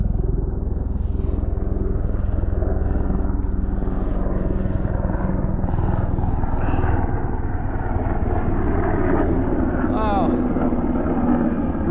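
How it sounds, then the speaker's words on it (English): A rescue helicopter flies over a mountain trail near San Gorgonio, its steady rotor rumble filling the whole stretch, while hikers talk over it. "Rescue helicopter."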